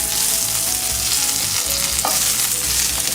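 Carne asada steak sizzles steadily in a hot pan while it is stirred and tossed, a loud, continuous frying hiss with a few soft scraping touches and no voices.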